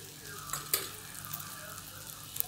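Dal ingredients sautéing in a Rajasthani-style pot for dal baati, a soft steady sizzle with a few light scraping stirs and clinks, close and fairly quiet, no voices.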